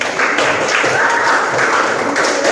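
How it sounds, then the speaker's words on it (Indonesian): A classroom group of students applauding after a presentation, a dense sustained burst of many hands clapping close by, with faint voices mixed in. "beri aplaus untuk kelompok"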